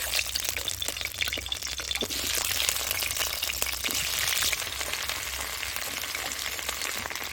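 Yam and potato pieces fry in hot oil for a duck curry, a loud, steady hiss and crackle of sizzling that fills the whole span without pause.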